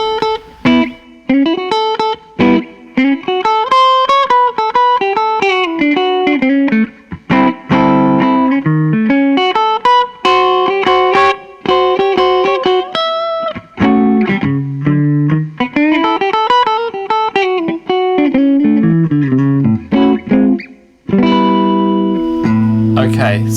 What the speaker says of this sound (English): So we'll start the lick dry.